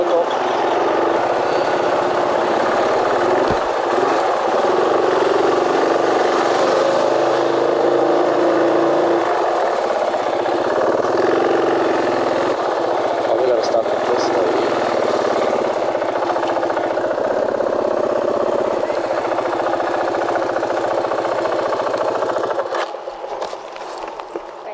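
Motorcycle engine running steadily at a border crossing with trucks backed up, a continuous loud close drone that holds for most of the stretch before easing near the end, with voices talking over it.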